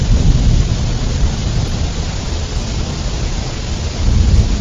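Heavy rain pours steadily in a cartoon scene, a dense, loud wash of rainfall with deep rumbling thunder swelling at the start and again near the end, no voices.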